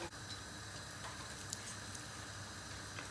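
Quiet, steady sizzle of hot oil frying cauliflower, with faint crackles and small pops, continuous and close, no voices.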